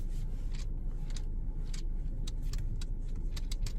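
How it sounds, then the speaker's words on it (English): Faint, irregular plastic ticks and rattles from a loose plastic piece inside the steering wheel of a 2023 Audi A5, over a steady low car-interior rumble, light clicks scattered throughout. "in this steering wheel, there's a piece of plastic maybe broke off in it"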